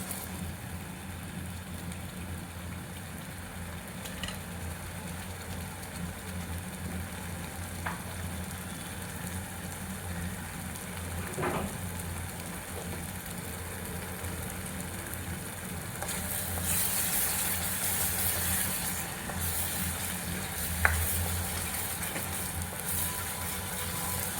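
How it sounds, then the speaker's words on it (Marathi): An onion-tomato paste cooks for a restaurant-style dudhi kofta curry with a continuous, moderate sizzling hiss. The sound is steady and close, with a brief brighter burst of spattering past the midpoint and an occasional faint tap. "आता हे छान शिजू देऊ आपण कांदा टोमॅटो पेस्ट"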